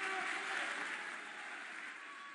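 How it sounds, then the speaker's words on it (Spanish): Applause from an audience at a formal Argentine event, a steady dense wash of clapping that fades slightly, heard alone without voices. "les pido por favor que lo reciban con un aplauso"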